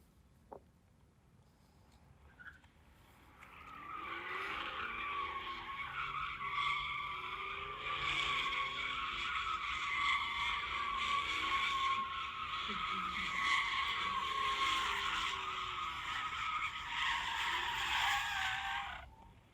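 Car turning right with the engine taken to 5,000 RPM. After a few quiet seconds, a loud, steady roar with a squealing edge starts and holds for about fifteen seconds, then fades at the end.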